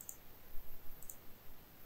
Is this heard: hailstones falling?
no